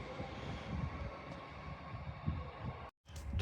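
A Class 802 train runs through York station with a low, steady rumble and faint rail clatter at moderate distance, the sound cutting out briefly near the end.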